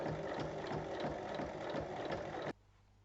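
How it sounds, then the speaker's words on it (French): A sewing machine runs steadily for about two and a half seconds, stitching along a traced line on a fabric tote bag, then stops abruptly. The whirring is close and continuous, with a busy mechanical clatter. "Et il faut piquer sur la ligne."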